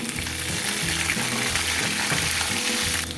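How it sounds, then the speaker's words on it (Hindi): Onion, garlic, cumin seeds and curry leaves tempering in hot oil for dal, giving a loud, steady, close sizzle and crackle throughout with no talking. "इसका बघार किया"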